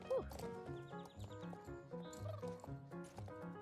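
Horse hooves clip-clop in the Star Stable online horse-riding game as a rider jumps at an equestrian festival, quick rhythmic footfalls mixed with game music and other animal calls, with people talking over them.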